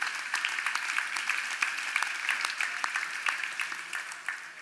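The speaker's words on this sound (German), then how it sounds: "Also einen großen Applaus für den Hawaii-Sieger" Applause at a triathlon awards gala for the 1995 Hawaii winner, dense steady clapping from a hall audience lasting several seconds without talk.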